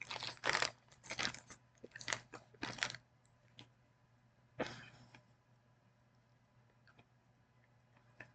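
Ringolos ring-shaped potato chips crunched at close range, a quick cluster of sharp bites and chews followed by a lone louder crunch and a few faint ticks trailing off into quiet.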